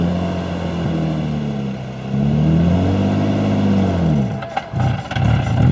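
A Nissan 350Z Nismo engine with an exhaust leak revs loudly and rises and falls in pitch, raspy and harsh, then dips abruptly near the end before the drone resumes, heard close from inside the car.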